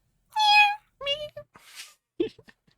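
A person imitates a cat's meow, a few short separate mewing calls with gaps between them, close and clear in a quiet room.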